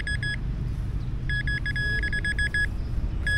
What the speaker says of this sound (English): We got a metal detector. We'll find it.